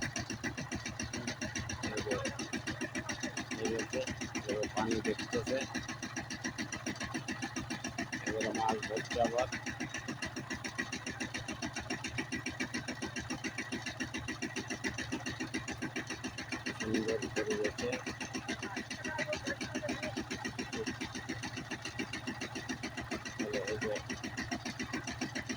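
A power tiller engine runs in a rice field with a steady, even mechanical drone that stays constant and fairly close throughout, while someone talks over it.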